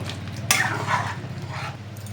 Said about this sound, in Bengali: একটু ভালো করে মিক্স করে নেব